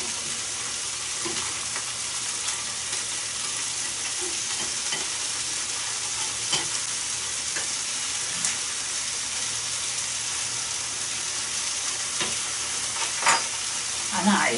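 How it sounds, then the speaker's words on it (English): Mushrooms and onions fry in lard in a home kitchen, keeping up a loud, even sizzle for the whole stretch, with occasional light clicks and scrapes as they are turned over. "You need to keep turning your mushrooms and your onions, just turn them over."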